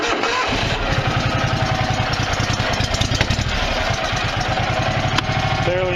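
A Massey Ferguson 2526 tractor with a dead battery, started cold on a weak jumper pack, cranks and then chugs into a loud, rhythmic diesel knock that keeps running steadily, heard close up.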